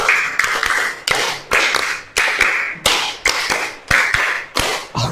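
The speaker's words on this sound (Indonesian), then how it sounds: "3 kali tepuk segitiga." A classroom of students claps a rhythmic triangle clap, sharp crisp group claps in repeating short bursts, loud and close, with no talking.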